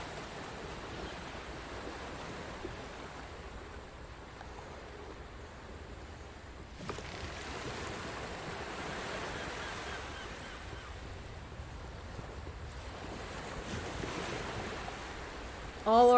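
Steady broadband wash of ocean waves at sea in a video game, a continuous rolling roar with slight swells, no voices, and a brief louder burst at the very end.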